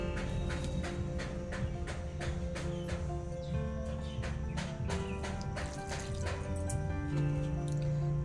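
Water dripping steadily after watering an ajwain plant, a rapid series of small, close drips and splashes running continuously with no talking.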